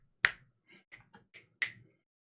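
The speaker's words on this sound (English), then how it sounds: "like snapping my fingers from a distance." Fingers snapped with the arm fully extended, away from a noise-suppressed microphone: one sharp crack, then several fainter, uneven snaps spaced out in an otherwise silent room.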